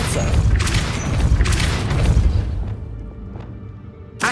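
A Depulso spell goes off in Hogwarts Legacy as a loud, booming magical blast that rumbles for about two and a half seconds, then fades into quieter ambience. A short thud lands at the very end.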